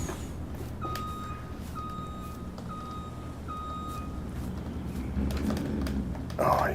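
Truck reversing beeps from the video game Farming Simulator 22 repeat in an even rhythm over a low engine rumble, with someone talking quietly beneath them.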